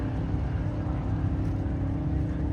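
A drag race car's heavy engine rumbles steadily at idle at a dragway, a deep, continuous low drone with no pauses, fairly close.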